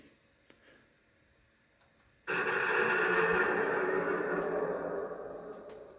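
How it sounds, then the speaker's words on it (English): After a few soft clicks, a loud electronic plasma cannon blast effect from a 3D-printed Predator costume bursts out suddenly and holds with a rushing, crackling roar before tapering slightly. "it coincides with the sound effect as well of the Canon firing"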